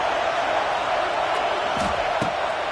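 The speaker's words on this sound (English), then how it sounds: "The Buckeye crowd alive on third down." A stadium crowd roars in a college football video game, the Ohio State Buckeyes' home fans producing a steady dense wash of cheering on third down, with a few sharp thuds breaking through near the end.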